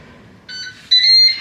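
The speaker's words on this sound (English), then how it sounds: "And we've beeped." Ninja Speedi air fryer beeping while grilling sausages for an English breakfast: a clear electronic beep tone, a softer note followed by a louder sustained beep, alone with no talk.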